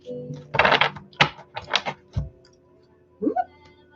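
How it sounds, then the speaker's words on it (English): A deck of tarot cards riffles and snaps in quick bursts of crisp, close flutters and taps with short pauses between, no talking. "Let me get a couple more shuffles here."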